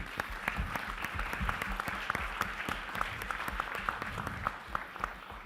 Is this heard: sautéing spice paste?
no